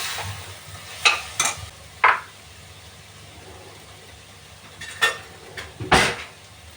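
Onions fry over low heat in a pav bhaji pan, a soft sizzle broken by several sharp scrapes and knocks of a spatula against the pan, loud and close, coming in small clusters.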